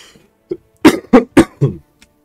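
Four or five quick, harsh coughs in a row, close and loud, after a short preceding breath.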